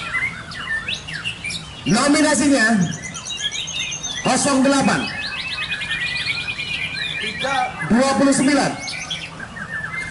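White-rumped shama songbirds sing in a contest, bursting into loud, rich, varied phrases three times over a busy background of other chirping birds, while a voice speaks briefly.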